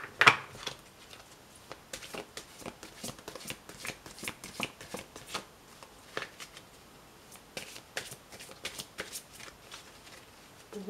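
A deck of oracle cards is cut and shuffled by hand, with close, quiet riffles and crisp flicks repeating in uneven bursts throughout, and no talking.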